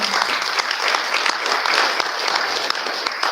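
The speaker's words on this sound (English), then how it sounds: "Clap your hands" A banquet audience claps steadily and loudly throughout, a dense, even wash of many hands with no voices rising above it.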